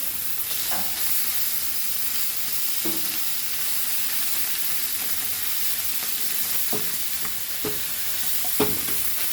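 Sardines shallow-frying in a pan for a crispy Goan tarle fry, a steady broadband sizzle throughout with occasional louder crackles and pops from turning the fish, close and without talk.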